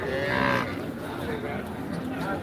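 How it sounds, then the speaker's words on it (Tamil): Cattle, including a buffalo brought in for sale, low with a single drawn-out moo amid the background murmur of a busy livestock market at Karungalpalayam. "எருமை பிடிச்சிட்டு வந்துருக்காங்க"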